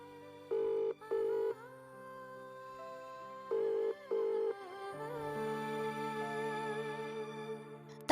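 A phone call goes unanswered: two pairs of ringback tones sound clearly, followed by a long steady electronic tone as the line rings out, with no voice.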